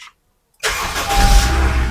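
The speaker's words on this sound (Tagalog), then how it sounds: "Start po natin yung engine mga boss." A Honda sedan's engine cranks and catches after a short silence, then settles into a loud, steady idle close by, with no talking.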